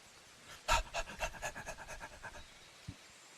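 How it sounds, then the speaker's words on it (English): A dog pants quickly and rhythmically up close, a run of short breathy huffs, followed by a brief pause and one last soft breath. "you guys hear the panting of a dog, but you don't see a dog"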